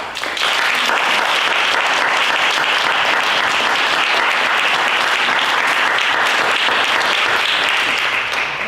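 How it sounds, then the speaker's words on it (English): Sustained, dense audience applause at a League of Women Voters candidate forum, a loud, steady wash of many hands clapping that holds evenly for the whole span with no voices over it. "I'd like to have a round of applause for all of us"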